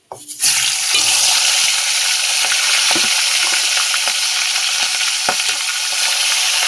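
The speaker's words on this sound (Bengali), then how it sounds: "মাছের মাথা দুটো এইগুলো একইভাবে ভেজে নেব।" Two fish heads fry in hot oil with a loud, steady sizzle that starts abruptly and crackles on without a break, close and alone.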